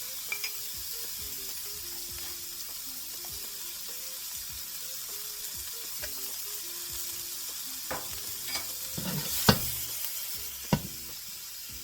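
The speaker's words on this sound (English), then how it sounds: "Now I'm going to add some diced onions." Diced onions go into a pan where shrimp are already browning, producing a steady, close sizzle of frying with occasional clacks of a utensil stirring against the pan.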